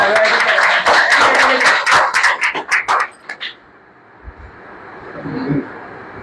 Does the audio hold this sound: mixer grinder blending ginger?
no